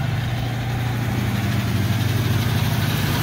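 A 1949 Packard Super 8 sedan's straight-eight engine idles with a smooth, even low rumble, close and steady throughout, alone without talk.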